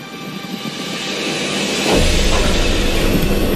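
Roller coaster train on the world's fastest coaster picking up speed on the track after cresting a 52-metre hill, a loud rushing roar that swells and deepens midway into a heavy sustained rumble.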